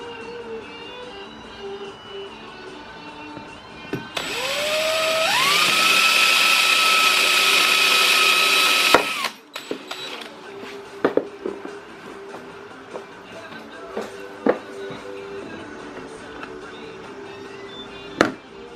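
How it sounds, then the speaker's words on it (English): A power drill with a 9/64 bit spins up and grinds steadily for about five seconds drilling out a rivet on a 2018 Jeep Grand Cherokee front bumper, then cuts out, followed by scattered clicks and clinks of handling metal parts. "Alright, so I'm going to drill this out. I got a 9/64 bit."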